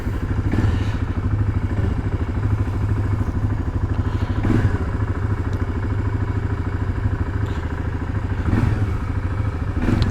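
A motorcycle engine warming up at a steady idle, loud and close, with a continuous low rumble and faint clattering thumps throughout.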